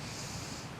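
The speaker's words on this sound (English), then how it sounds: "Inhale through the nose" A single steady nasal inhalation during a yoga chakra breathing exercise, a soft continuous airy rush close to the microphone, heard alone without talk.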